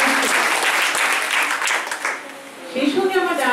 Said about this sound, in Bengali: একটা হাততালি বড় তাদের জন্য